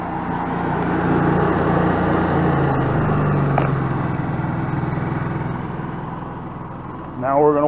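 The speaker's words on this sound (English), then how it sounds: "You can still hear the generator, but it is nowhere near as loud as it was with the eco throttle" A portable generator runs with eco throttle on, heard from behind a camper at a boondocking campsite as a steady, moderately loud engine drone. A voice speaks briefly near the end.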